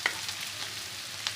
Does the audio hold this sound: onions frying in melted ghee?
yes